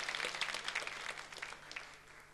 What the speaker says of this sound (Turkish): Alkışlar devam ediyor tabii ki.